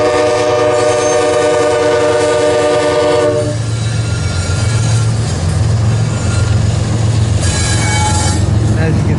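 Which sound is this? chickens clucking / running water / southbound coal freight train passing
southbound coal freight train passing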